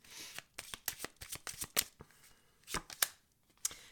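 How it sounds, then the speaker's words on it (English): Cards from an old-style Lenormand deck being shuffled and drawn, a run of crisp, close riffles and snaps in an irregular rhythm, each burst short and sharp, with brief quiet gaps between them and no voices. "Let's also pull some clarifications from the old style Lenormand deck"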